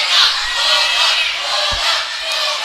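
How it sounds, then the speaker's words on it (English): Crowd at a volleyball quarterfinal between McBain and Calumet chanting "Bulldog" in a steady, rhythmic roar of many voices, filling the gym throughout with one low thump partway. "Crowd chants Bulldog getting all fired up for this jumper."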